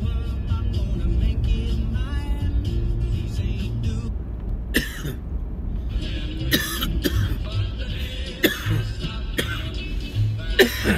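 Several sharp, loud coughs and throat-clearing bursts come in quick irregular succession after a stretch of low engine-like rumble.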